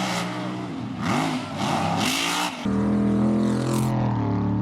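Off-road mega trucks race head to head, engines revving hard and roaring close by in loud sustained bursts with rising and falling pitch, one truck surging past near the end.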